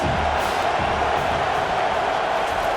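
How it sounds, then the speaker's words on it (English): A stadium crowd at a Texas vs Michigan college football game sends up a loud, continuous roar of cheering and shouting, dense and sustained throughout. "This crowd trying to make life miserable for this offense."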